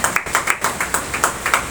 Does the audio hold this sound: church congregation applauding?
yes